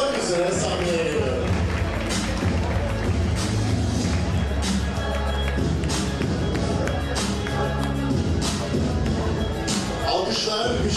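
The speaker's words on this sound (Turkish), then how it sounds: "Çok büyük alkışlar Cemil İpekçi için gelsin." Audience applause at an award ceremony for a lifetime honorary award, sustained close clapping with crowd murmur, an announcer talking over it throughout.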